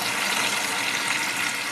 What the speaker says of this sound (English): it's automatically keeping the drain valve open and it's opening the fill valve